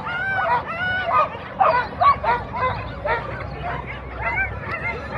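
Sled dogs bark and yip excitedly at the start of a street sled dog race in Anchorage, with many overlapping barks and whines close by over a crowd murmur.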